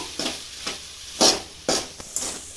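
Coconut, green chilli paste and turmeric stirred and fried together in a pan, heard as four or five brisk, close scraping strokes of a spoon against the pan over a faint sizzle.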